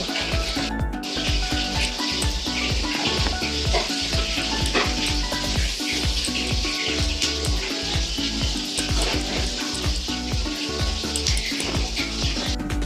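Oil sizzles and crackles in a wok on a home stove as food fries, a steady bright hiss running throughout with repeated clanks of stirring and no one talking.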